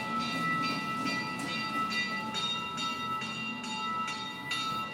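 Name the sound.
bells ringing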